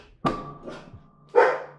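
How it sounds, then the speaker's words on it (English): Household dogs bark at the front door, three separate loud woofs spaced over about two seconds, fairly close, with no talk over them. "They're gonna go bark at the door"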